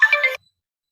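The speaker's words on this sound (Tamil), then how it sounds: "ஃபோனு ஃபோன் வருது" A phone ringtone sounds clearly and alone for under half a second with a bright electronic tone, then cuts off into silence.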